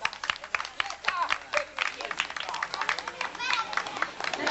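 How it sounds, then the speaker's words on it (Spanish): Guests at a fifteenth-birthday party break into dense, steady clapping that carries on for several seconds, mixed with chatter and shouts from the room. "aplauso de ustedes"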